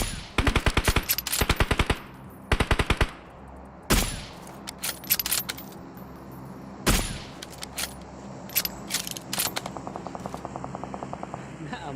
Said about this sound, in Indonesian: Gue nembak ban lo.